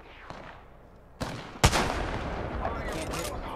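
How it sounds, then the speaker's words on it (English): Gunfire in the Apex Legends shooter game, heard as a couple of sharp loud shots followed by dense bursts of firing and battle noise, with no talk. "I am taking fire, friends."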